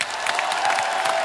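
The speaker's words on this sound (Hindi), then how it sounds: "जोरदार ताली" A studio audience at a Punjabi-singers special of a comedy show bursts into brief, dense applause, a steady wash of clapping with some crowd noise.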